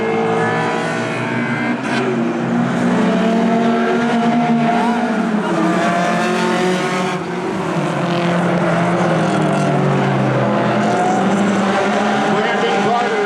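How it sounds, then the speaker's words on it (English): Race cars lapping a speedway track in a Hornet class race, engines droning loudly and steadily throughout while a commentator talks over them. "Ray Fortier goes by in the 87 car"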